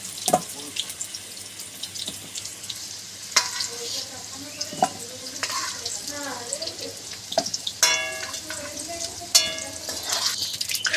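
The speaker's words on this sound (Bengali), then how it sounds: "সব আলুগুলো এইভাবে আস্তে আস্তে তুলে নেব।" Potato pieces frying in hot oil for a Bengali prawn dish, with scraping and clinking as they are lifted out one by one, sharp utensil taps over a steady sizzle, close by.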